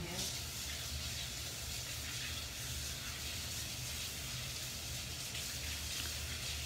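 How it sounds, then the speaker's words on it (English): Tap water runs steadily into a kitchen sink while hands are washed, a constant close hiss and splash that holds unchanged throughout. "I'm going to wash my hands."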